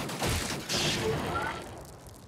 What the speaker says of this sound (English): How big is the explosion from that?